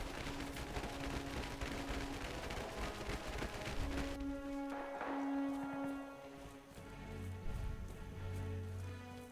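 Rifle fire in Aufmarsch: The Great War, a World War I shooter: dense, overlapping gunfire and battle noise fill the first four seconds, then a quieter stretch follows with scattered distant shots under sustained tonal sounds.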